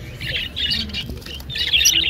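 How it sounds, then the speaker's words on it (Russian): Songbird parrots at a bird market chirp and twitter in bright, quick bursts, fairly close, over a low murmur of background crowd noise. "Сегодня тут красивые певчие попугаи."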